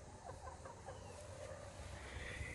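Chickens clucking faintly in a backyard coop after one hen lays an egg, several short clucks scattered over soft steady background noise.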